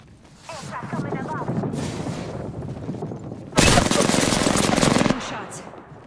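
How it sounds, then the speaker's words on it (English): Video game gunfire in rapid automatic bursts, with a steadier spell early on and a louder, denser burst near the end; a voice speaks briefly. "Shots."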